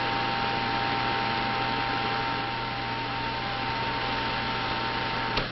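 A 16mm motion picture projector runs with its film shoes open, giving a steady mechanical whir over a constant low hum, even and unbroken throughout.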